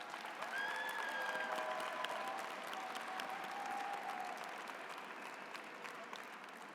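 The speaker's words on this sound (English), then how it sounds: "give a big round of applause to all of your family and friends who came here to support" Sustained applause from a large commencement ceremony audience, a steady dense wash of clapping that holds for several seconds and slowly fades, with faint cheers and whistles mixed in.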